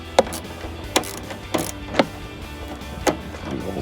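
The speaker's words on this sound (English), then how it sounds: "Tighten it down the rest of the way." A ratchet clicks in short bursts, about five spaced strokes, while tightening a headlight fastener on a 2003-2005 RAM 2500 pickup during an LED projector headlight install; close and fairly crisp, no talking.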